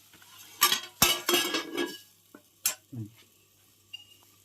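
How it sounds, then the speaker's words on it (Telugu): A cooking pot with softening tomatoes, set up in a makeshift kitchen for fish curry: a few sharp metallic clanks and scrapes as the lid goes on, then quiet with a faint sizzle beneath and one small clink near the end. "ఇప్పుడు ఈ టమాటా మెత్తవాడేంత సేపు మనం మూత పెట్టుకుందాం"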